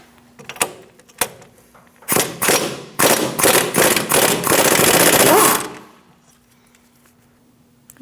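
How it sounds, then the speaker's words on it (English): An impact wrench with a 15mm socket hammers off the pinch bolt nut on a 2012-2020 Chevrolet Sonic front wheel bearing assembly. A few sharp clicks come first, then loud, close, rattling bursts run for about four seconds before stopping abruptly. "Now we're going to use a 15mm socket and remove this nut for our pinch bolt."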